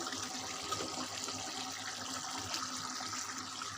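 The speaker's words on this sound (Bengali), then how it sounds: "এখন আমি এই কষানো ঝোলের মধ্যে মাছগুলো দিয়ে দেব" Rohu fish pieces go into a simmering, spiced Bengali gravy, giving a steady, even wash of sizzle and bubbling that stays close and constant throughout, with no talk over it.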